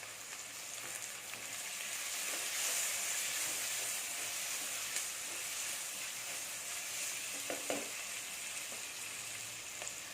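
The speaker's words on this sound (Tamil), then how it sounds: "இது நல்லா போட்டு வதக்கிடலாம் கொஞ்சமாக கருவேப்பிலை போட்டு" Onions and curry leaves sauté in a hot pan for a Tamil squid (kanava) masala. A steady, close sizzle hisses throughout, broken by a few faint stirring scrapes, with no talking.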